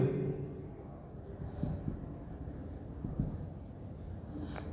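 Pen writing on paper while working an accounting problem: continuous soft scratchy strokes with a few sharper taps, close and fairly quiet, and a voice murmurs faintly in the background.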